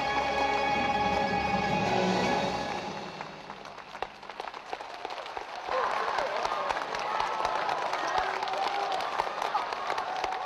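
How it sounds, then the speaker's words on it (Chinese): Audience at a concert in Shanghai bursts into sustained applause and cheering, a dense wash of clapping that swells, briefly dips, then returns strong and continuous, with a voice heard over it at the start. "观众席不断爆发出掌声和叫好声"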